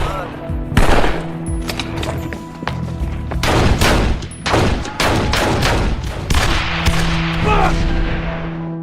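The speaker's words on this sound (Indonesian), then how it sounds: "aksi baku tembak pun tak terelakkan" Film sniper shootout at night: loud, close gunshots crack in quick irregular volleys and single reports, some echoing, over a low rumbling score.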